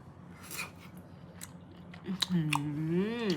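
Soft, springy Korean-style soy-marinated abalone is chewed close to the microphone, giving wet, squishy bites and small clicks, followed by a drawn-out voiced sound at the end.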